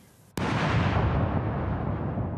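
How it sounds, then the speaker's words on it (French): A single loud, booming ceremonial cannon shot, fired for the proclamation of King Charles III, erupts suddenly, then rumbles and echoes on with a long, roaring decay. "Des coups de canon sont tirés partout dans le pays."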